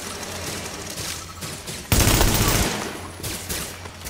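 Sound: gunfire shooting at player, video game The Division

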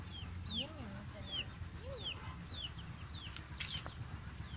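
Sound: chicken clucking

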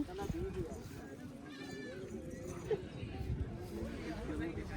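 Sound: goats bleating at a goat market

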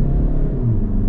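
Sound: 2023 SEAT Leon FR+ accelerating in sport mode

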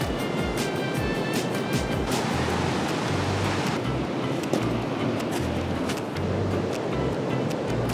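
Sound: ocean waves on beach at La Jolla, San Diego

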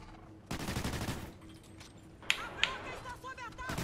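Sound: sentry turret gunfire in a video game

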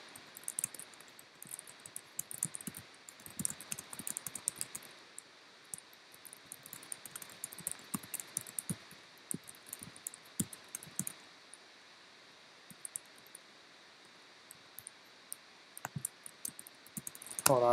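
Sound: typing on a computer keyboard

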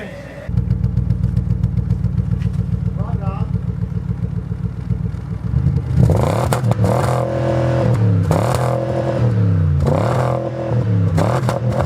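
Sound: Mercedes E63 engine revving, 330 horsepower

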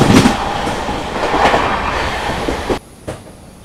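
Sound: Garib Rath Express train running on LHB coaches

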